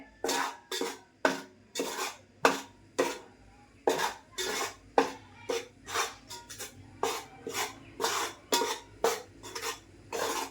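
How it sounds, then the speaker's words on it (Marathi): Gram flour roasting with ghee in a pot for besan ladoo is stirred in close, rhythmic scraping strokes, about twenty in a row, with no voices. "आणि हे पीठ घालते टोपात आणि असं थोडं थोडं मी करून दोन तीन वेळाला असं भाज भाजून घेणार पीठ"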